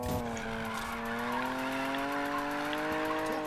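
A sustained tire squeal from a handbrake drift in Need for Speed Payback, a steady high screech with engine drone underneath, loud and close throughout with no talk.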